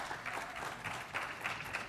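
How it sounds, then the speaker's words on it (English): Audience applause for Dr. Andrew Lavik at a talk on GSD bone health: a steady wash of many hands clapping indoors, moderately loud, with a few swells in intensity and no clear voices over it. "Let's give a round of applause for Dr."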